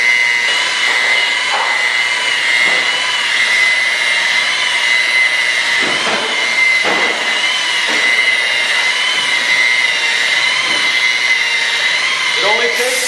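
A rotary polisher with a wool pad buffs a wood surface at a slow speed of about 1000 RPM, giving a loud, steady whirring drone with light rubbing scrapes across the whole stretch.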